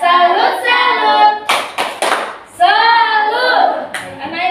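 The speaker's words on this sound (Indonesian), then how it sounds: "Yuk, beri tepuk tangan buat semuanya yuk." A class claps hands in a short cluster of sharp, close claps, with one more clap a moment later, set between stretches of a loud chanting voice.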